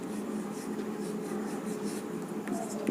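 Chalk or marker writing on a board during a chemistry lesson on isotopes, a steady continuous scratching and rubbing that runs throughout the clip at moderate level, close by.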